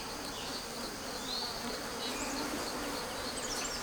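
Honeybees fanning at the hive make a dense, continuous buzzing drone, steady and fairly close, with individual wingbeat whines rising briefly above the hum.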